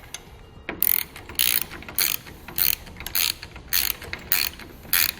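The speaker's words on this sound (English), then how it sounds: "now we're going to grab 2 13mm sockets and get it all tightened down" A 13mm socket ratchet tightening lock nuts on a Buyers Products truck bed ladder rack, giving sharp repeated clicking bursts in a steady rhythm, close and fairly loud with no talking.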